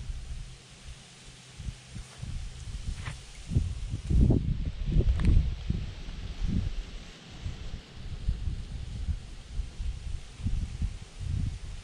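Outdoor wind gusts buffet the microphone during a bow hunt, low rumbling bursts that swell and fade irregularly, strongest in the middle, with faint rustling around them.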